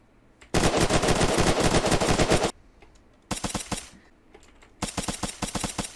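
Heavy automatic gunfire in a multiplayer base-raid video game: a long sustained burst of rapid shots, then a short pause, a shorter volley, and another fast burst, all loud and close with no talking.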